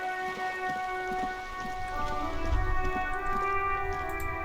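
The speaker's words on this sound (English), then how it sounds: "All around you, rain falls on the great city of Rivershore." Rain falls steadily over the great city of Rivershore in the video game Disco Elysium, a constant hiss of drops under sustained tonal music, with a low rumble swelling midway.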